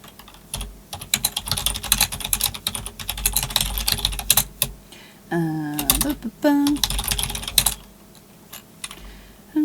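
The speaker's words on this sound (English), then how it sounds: "I've been trying to type and think at the same time." Fast, close clicking of a computer keyboard comes in dense bursts with brief pauses, and a voice speaks briefly in the middle.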